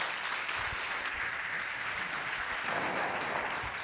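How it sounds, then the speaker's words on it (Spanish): A church congregation claps steadily and fairly loudly during a Spanish-language sermon, a continuous wash of applause with no voices over it. "Entonces vamos a darle un fuerte aplauso a nuestro Señor Jesucristo."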